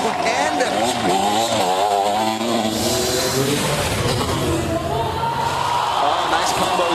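A freestyle motocross bike's engine snarls and revs loudly throughout a run at the 2013 X Games in Foz do Iguaçu, with crowd noise and a commentator talking underneath.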